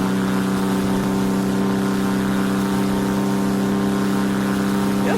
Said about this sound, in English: Note how the engine RPM increases slightly as you speed up.